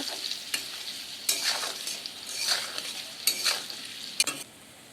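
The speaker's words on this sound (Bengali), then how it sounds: "সাদা জিরে লঙ্কার গুঁড়ো ও একটু হলুদ মিশিয়ে যে পেস্ট আমি বানিয়েছিলাম সেটা আমি দিয়ে দেব" Cumin, chilli powder and turmeric paste sizzling in a pan on the stove, a steady frying hiss broken by several louder bursts of stirring and scraping, close and with no voices.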